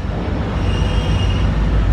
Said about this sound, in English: Got a train though, going right by,